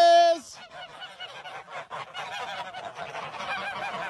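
A flock of geese honks loudly and close by: one clear call, then many overlapping honks that keep going.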